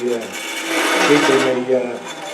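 Chasing threads on a wood lathe, likely the outside threads of a lidded box: a continuous raspy scraping with a faint tonal hum, close and steady, with a voice speaking over it.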